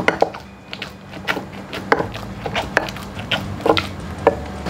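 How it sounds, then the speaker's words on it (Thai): A pestle pounds shrimp meat and salt in a mortar, giving a series of irregular dull thuds with sharper knocks, close and moderately loud over a quiet background. "เราโขลกให้เป็นเนื้อเดียวกันก่อนนะคะ"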